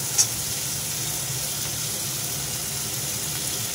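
Potatoes fry in a pan with a soft, steady sizzle that goes on evenly throughout, with one small clink near the start.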